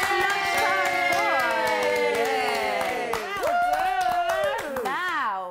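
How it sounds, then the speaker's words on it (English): Group clapping for a young boy at lunchtime: steady, close hand claps over an excited mix of high children's voices and tonal cheering that runs through the whole stretch. "Everybody give Kai Dixon a big clap for being the best lunchtime"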